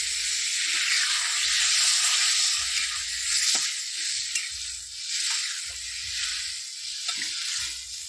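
Steady loud sizzling and hissing as water hits a hot pan of fish curry with potato and cauliflower, with low bubbling underneath and occasional scraping, no voices.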